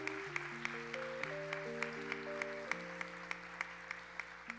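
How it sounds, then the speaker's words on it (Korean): Faint, sparse clapping from a young adults' church worship congregation blessing a new member, soft under sustained keyboard chords. "우리 차지은 자매님 셀로 등반하신데 우리 좀 박수로 좀 축복합시다"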